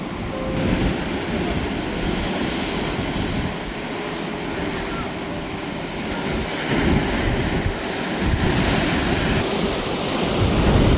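Ocean surf off the Australian coast rolls in continuous, loud waves with gusting wind buffeting the microphone, swelling and easing in a slow, irregular rhythm.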